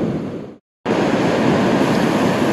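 Sea waves break and wash steadily on Bournemouth beach, a loud continuous roar of surf with a short dropout near the start, no voices.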